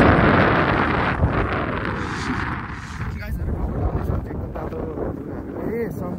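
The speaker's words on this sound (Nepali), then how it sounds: "अब हावाहुरी चलेर के हुन थाल्छ यहाँ" A strong windstorm blows outdoors, roaring and buffeting the microphone in loud, continuous gusts while someone talks over it.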